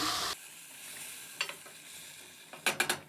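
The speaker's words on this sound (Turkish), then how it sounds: "Şöyle bir karıştırıyorum." A brief burst of sizzling, then a few soft scraping stirs of bulgur with hot water in a pot, ending with a quick cluster of spoon scrapes.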